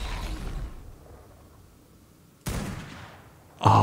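A fabricated sniper rifle fires in ARK: Survival Evolved: three sharp, loud shots, one at the start, one midway and one at the end, each followed by a short fading tail over a quiet gap.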